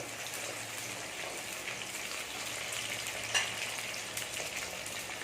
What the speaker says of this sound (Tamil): ரெண்டுமே சேர்த்து நல்லா வதக்கிடுறேன்